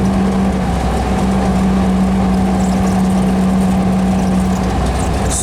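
A 1776 cc air-cooled VW engine breathing through a baffled stinger exhaust idles steadily and loud up close, a constant low drone with a strong humming tone throughout, no voices.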